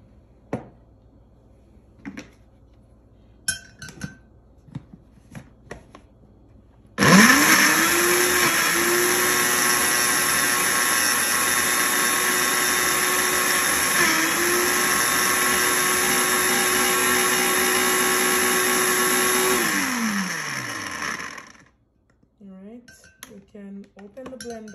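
A blender whirs loudly and steadily for about thirteen seconds, blending mango and evaporated milk, its pitch dipping briefly midway, then winds down; light clinks and handling noises come before and after.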